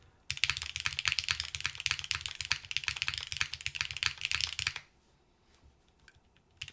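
Fast typing on a TKL mechanical keyboard fitted with granite switches, close and crisp with dense clacky keystrokes for about five seconds, then near silence with a few faint taps.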